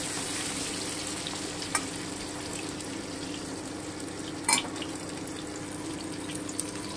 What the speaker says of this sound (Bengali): আমি পটলগুলো হালকা ব্রাউন করে ভেজে নেব।